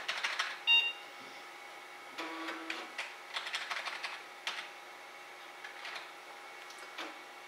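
Quiet scattered key presses on a computer keyboard, with short irregular bursts of clicks and a faint beep, close by in an otherwise silent room.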